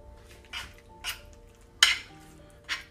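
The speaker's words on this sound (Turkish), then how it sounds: "Hatta daha rahat karıştırabilmek için şimdiden zeytinyağını verebiliriz." Spoon scraping and clinking against a bowl while olive oil is stirred into a yogurt salad, a few separate knocks spread out over steady quiet background hum.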